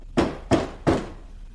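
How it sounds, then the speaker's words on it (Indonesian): Three evenly spaced knocks on a door, sharp and fairly close, each with a short hollow decay, followed by quiet. "terdengar suara ketukan pintu"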